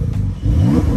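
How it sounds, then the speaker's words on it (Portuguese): Porsche 911 Turbo S of the 992 generation with its exhaust valve open and a fully stock exhaust, warmed up past cold start, revving with a loud, close engine rise that climbs in pitch over about a second. "agora sim abriu a válvula do escape"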